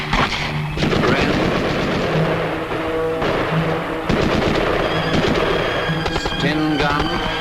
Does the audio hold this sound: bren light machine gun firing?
yes